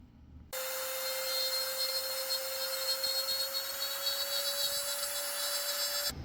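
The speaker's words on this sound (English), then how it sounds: "So I'm just going to use a Dremel and countersink that" A Dremel rotary tool countersinks the metal tang of a fantasy dagger, giving a steady high-pitched whine that starts abruptly after a brief quiet moment, holds constant and loud close by, then cuts off near the end.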